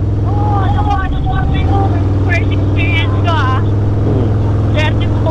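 A Harley-Davidson motorcycle carries a passenger, its engine droning steadily and loudly throughout while people talk over it.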